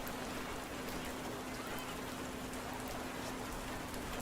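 Lukewarm rain falls steadily and densely in the video game Burrows, a constant even hiss of drops with a faint low hum beneath it and no breaks.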